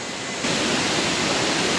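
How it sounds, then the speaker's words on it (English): Fast-flowing water rushes at the base of a waterfall near a low-cost camp in Mareeba, Far North Queensland, a loud, steady broadband roar that swells stronger after a brief moment, with no voices. "look how fast that water's flowing"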